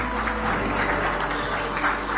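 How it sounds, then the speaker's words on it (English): An awards-ceremony audience keeps up loud, continuous clapping at a live health awards event, a broad steady wash with slight swells and no speech over it. "Ladies and gentlemen, I believe we can keep the claps rolling."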